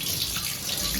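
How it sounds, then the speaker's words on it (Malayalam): A short splashing pour of water tipped from a vessel outdoors in a yard, one brief continuous gush with no voices. "ഇനി വെള്ളം മറിക്കാണ് കേട്ടോ"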